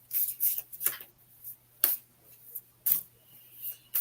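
A deck of cards being shuffled by hand, heard as a series of crisp, close snaps and short papery flutters spaced irregularly, with no talking.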